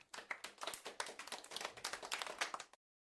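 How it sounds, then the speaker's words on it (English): A small audience gives brief, sparse clapping after a math lesson, a few seconds of uneven hand claps that stop abruptly. "Half-hearted applause, but I'll take it."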